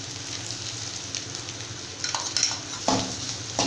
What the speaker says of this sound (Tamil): நம்ம அரைச்சிருக்கக்கூடிய பருப்பை ஃப்ரை பண்ணணும்